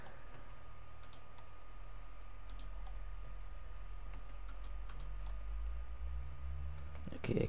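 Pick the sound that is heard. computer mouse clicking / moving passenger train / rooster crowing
computer mouse clicking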